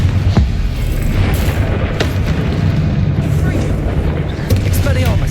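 Bombarda and Confringo spell blasts in Hogwarts Legacy, heavy booming explosions over a dense, continuous roar of game noise, loud and close, with brief sharp cracks along the way.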